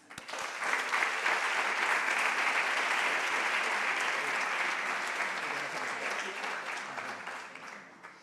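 An audience at an open conference session breaks into sustained applause, a dense, even clapping wash that holds for several seconds before tapering off, no one speaking over it.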